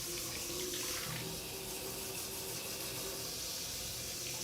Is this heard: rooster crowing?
no